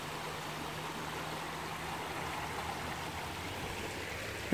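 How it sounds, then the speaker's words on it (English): Water cascading down a river at Tew's Falls, a steady broad rushing wash that fills the whole clip at an even level, close and continuous, with no voices. "It's like a cascade of water, like a river, flowing all the way down to that side."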